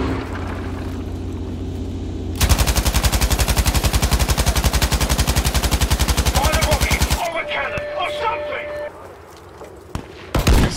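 An MG42 machine gun fires in Battlefield V, a loud, close, very rapid continuous burst lasting several seconds before it stops, with ambient battle noise and a brief later burst.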